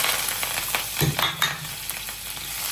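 Cumin, mustard seeds, dried red chillies, curry leaves and coriander crackle and sizzle steadily in hot oil for a tamarind chutney tempering, with a brief burst of spattering and a few stirring clinks, close and alone.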